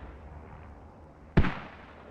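A single sharp explosion from an airstrike in the video game Squad, sudden and heavy with a rumbling tail that fades over about half a second against quiet background noise.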